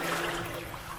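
Water flowing steadily through a Victorian culvert tunnel, a continuous rushing and trickling wash that stays even and moderately quiet throughout, with no voices.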